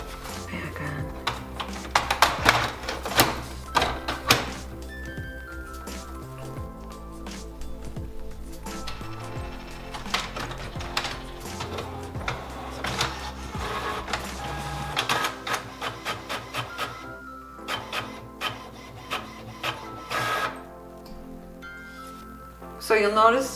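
An inkjet-style printer runs off custom planner pages, giving a long sequence of whirring feed motions, clicks and rhythmic print-head passes with brief pauses, close by, while a person talks over it.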